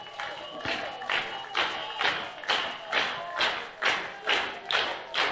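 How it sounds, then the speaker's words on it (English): A baseball stadium crowd urging on the Gamecocks in a late-inning comeback, with rhythmic waves of clapping and cheering that swell and fade in steady repeated bursts, moderately distant. "Crowd trying to will the Gamecocks on to a comeback"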